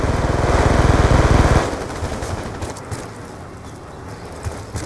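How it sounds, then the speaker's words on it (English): Rapid machine-gun fire from enemies in Black Ops 2 rattles loud and close for about a second and a half, then gives way to scattered fainter shots and background combat noise. "They got people shooting out of trees and stuff up in here."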